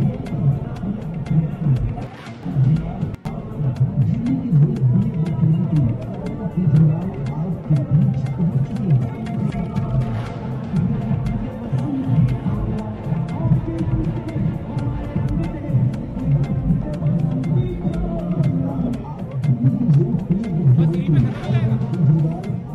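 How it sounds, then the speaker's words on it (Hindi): Large crowd at Arvind Kejriwal's election rally in Dehradun, a continuous dense hubbub of many voices and chatter, steady and loud throughout with no pauses. "वीडियो के जरिए देखिए कि भीड़ कितनी थी"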